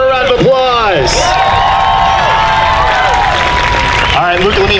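A festival crowd applauds and cheers loudly for the runner-up of a cosplay contest, steady clapping filling the room while a voice over the sound system talks through it.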